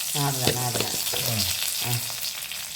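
Green chillies and fresh curry leaves sizzle steadily in hot oil, a close, continuous crackling hiss with a voice briefly heard over it.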